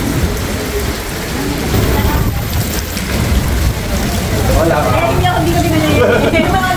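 Morning rain falls steadily at Santa Ana Port in Cagayan, a dense continuous patter on surfaces close by, with voices heard under it.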